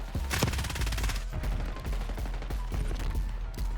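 Rapid automatic gunfire from a Ladra rifle in Call of Duty Black Ops 6 multiplayer, loud and close, with sustained bursts and repeated sharp shots over a steady game background.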